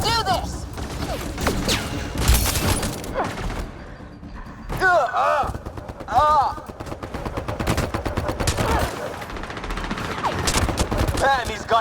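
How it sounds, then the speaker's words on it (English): Rapid bursts of automatic gunfire and loud impacts from a Mass Effect Andromeda firefight, near and sustained across the whole stretch, with shouted voices breaking in over the shooting. "Just keep firing, we can do this!"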